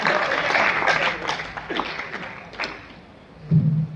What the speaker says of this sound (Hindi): तालियां भी बजाइए